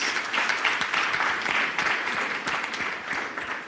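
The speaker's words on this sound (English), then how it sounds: "I would please urge us to give them another round of applause." A conference audience applauds the discussion panel with sustained, dense clapping from a large room, steady in level throughout with no voices over it.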